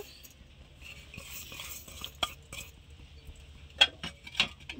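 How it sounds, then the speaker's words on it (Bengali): A spoon stirs sugar into a bowl of water for homemade raw mango jelly, light scraping and scattered clinks against the bowl, a few sharper taps near the end, close and fairly quiet with no talk. "একটু ভালো করে আমি চিনিটা গুলিয়ে নেবো নাড়িয়ে"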